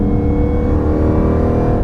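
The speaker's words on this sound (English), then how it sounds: "The exhaust, which is apocalypse level, frankly," A 1,000 hp supercharged Jeep Grand Cherokee daily driver revs hard at higher RPM, its very loud exhaust roaring in a steady close drone that drowns out the blower whine.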